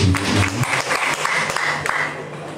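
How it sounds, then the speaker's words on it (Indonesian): An audience at a tourism and small-business discussion in Labuan Bajo breaks into applause, a steady broadband clatter of many hands that stays fairly loud throughout, with a low hum and faint voices underneath. "Tepuk tangan untuk"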